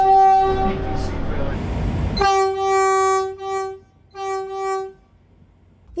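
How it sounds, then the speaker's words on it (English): A loud, harmonious European-style horn on a new Caltrain electric train sounds in a long blast followed by two shorter toots, after a stretch of rumbling train noise. "New trains also mean new horns."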